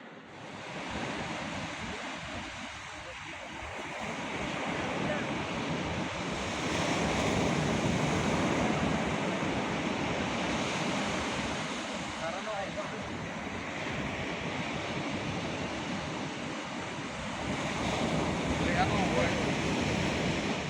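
Sea surf rolls onto a shore as the tide turns from low toward high, a loud, continuous wash of breaking waves mixed with gusty wind buffeting the microphone, swelling and easing over twenty seconds.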